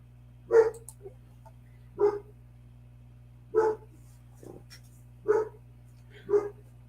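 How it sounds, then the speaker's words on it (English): A dog barks five times at roughly even intervals, each bark single and fairly close, over a steady low electrical hum. "Of course, we have a dog barking."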